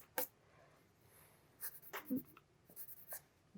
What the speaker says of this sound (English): I think I'm going to kind of just kick the back of that helmet out just a little bit more and kind of erase that line.